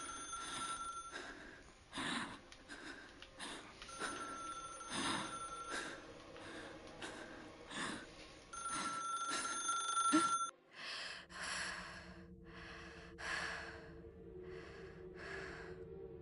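An old-style telephone bell rings repeatedly in the horror video game Dark Atlas: Infernum, steady bursts under quiet breathing and gasps, then stopping as eerie ambience and low tones take over.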